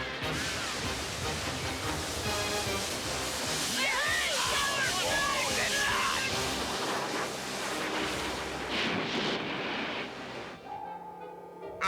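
A broad rushing hiss of water spraying forcefully and steadily for several seconds, with splashing and a voice briefly over it, ending abruptly.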